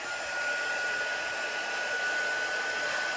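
A hair dryer blows over chalk paste on a craft project, giving a steady, even whir that runs continuously at close range with no voices.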